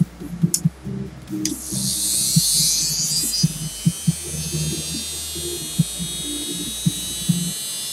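A small power tool cutting parts for an RC monster truck, a high whining buzz that runs for about a second and then fades, over a low electrical hum and scattered taps.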